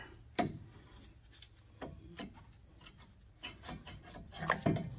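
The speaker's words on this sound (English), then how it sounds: "I'm just going to rotate this caliper out of the way" A brake caliper is worked loose and rotated off a Jeep during a brake swap. A handful of quiet, close scrapes and dull metallic knocks come at irregular intervals.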